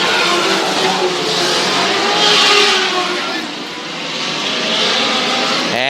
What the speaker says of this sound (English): all 30 midget cars roar 1 lap and a half at full speed green